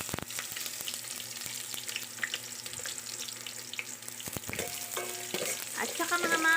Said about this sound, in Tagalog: igisa natin ang mga sangkap, bawang, bubay, kamatis.